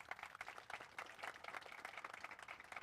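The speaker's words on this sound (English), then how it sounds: "Another round of applause, please" Audience applause for the team at a grand opening ribbon-cutting ceremony, a dense, steady patter of many hands clapping at close range with no voices over it.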